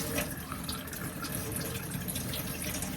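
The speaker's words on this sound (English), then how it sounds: "You're going to want to start by using some running water and just kind of removing any of the visible debris on the implement." Running tap water splashing steadily into a sink while debris is rinsed off an implement, a constant broadband rush with faint drips, close and moderately quiet, no speech.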